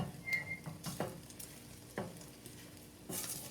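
Eggs fry in a pan while being pushed and stirred, a soft continuous sizzle broken by a few scraping stirs and clicks, close and fairly quiet.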